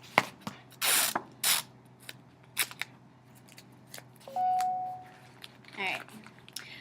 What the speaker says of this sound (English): you're going to just tape it to the bottom.